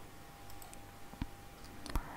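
Two separate clicks from a computer mouse button while someone registers a school in an online exam website. The crisp, quiet clicks come close together near the end against a faint hum in the room.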